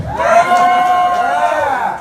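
A loud comedy club crowd cheers and whoops nonstop, shouting voices massed together close by with rising and falling yells that hold strong for the whole stretch before easing slightly at the end.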